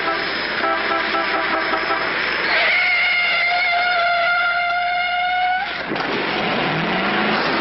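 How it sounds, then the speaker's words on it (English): A car engine roars and revs as it speeds along, with a sustained horn blast blaring partway through. "Pretty reckless driving."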